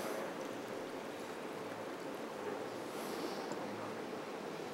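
Water is poured into a pan of chutney made with apple cider vinegar, giving a steady, close rushing splash that holds evenly throughout with no voices over it.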